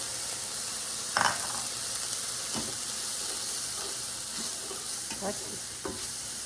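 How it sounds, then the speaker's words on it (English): Salt, chili powder and paprika are stirred together in a pan for slow-cooked orange chili pork tacos, with a soft continuous sizzle and a few light scraping strokes of the utensil, close and fairly quiet, with no voices. "make sure we stir this up so it's very well incorporated"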